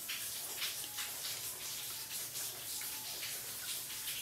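Steady rain falls continuously as a dense, even hiss of droplets, moderately close with no pauses, and no voices over it.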